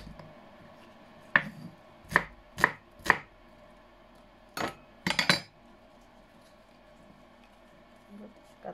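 Sharp knife chops of spring onions on a board come in scattered bursts, a few quick strikes and then a short cluster, close by with a faint low background.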